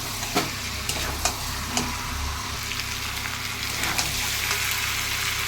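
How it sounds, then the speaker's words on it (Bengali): Mutton fat and new potatoes being sautéed in a pan, a soft steady sizzle broken by several sharp scraping stirs of a spatula, close and moderately quiet, with no talking. "দিয়ে এটা এখন আমি এটা ভালো করে আরো কষাবো।"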